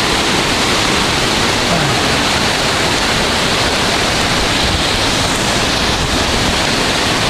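A powerful waterfall at Plitvice Lakes in Croatia roars with a dense, unbroken rush of falling water, loud and close, with no voices over it.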